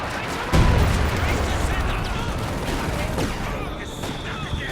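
Continuous machine gun fire and battle noise from the Company of Heroes 2 strategy game, a loud, dense rattle that kicks in abruptly and keeps going throughout.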